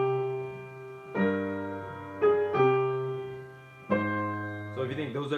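Solo piano playing the stripped-down core of a waltz, a few sustained chords struck one after another at a slow waltz pace, each left to ring and fade.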